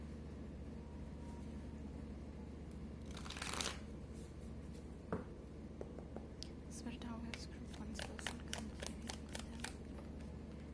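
Tarot cards shuffled in a series of soft riffling bursts, a dense flurry early on followed by quicker crisp snaps, close and moderately quiet over a low steady hum.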